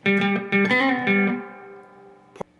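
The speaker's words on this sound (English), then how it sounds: "Part 2 played in real speed." Electric guitar with distortion plays part 2 of a song at full speed, a quick run of sustained, overlapping notes that fades out, ending with a brief sharp strum.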